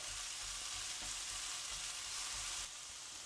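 Garlic and chilli mixture for pad kra pao cooking down in a pan, a dense, close hiss of frying with faint stirring underneath, steady throughout and heard without any voices.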